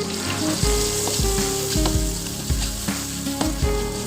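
Ground spice paste of garlic, candlenut, pepper and ginger sautéing in a pan gives a loud, dense sizzle and crackle, with regular scraping strokes of stirring throughout.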